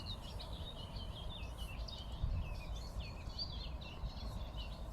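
Many birds sing and chirp outdoors by a lake, a dense overlapping chorus of high calls over a steady low rumble, with no one talking.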